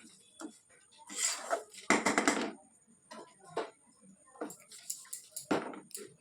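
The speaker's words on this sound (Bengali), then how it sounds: "চিনি দিয়ে আমি আবার নেড়ে চেড়ে নিচ্ছি।" Semolina and sugar being stirred in a frying pan for sujir barfi, with scraping bursts from the spoon against the metal pan coming in uneven clusters, fairly close.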